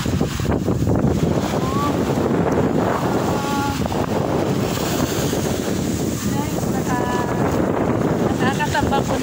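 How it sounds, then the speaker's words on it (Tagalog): Sea waves on a beach wash in under strong wind buffeting the microphone, a loud continuous roar with brief voices in the background. "Ang ganda naman ng alon ng dagat."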